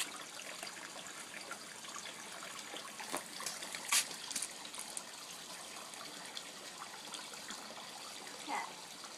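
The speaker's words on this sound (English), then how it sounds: "I'm going to dump this cup out" Water dumped out of a cup, a soft steady trickle and splash close by with a couple of brief louder spills partway through and toward the end.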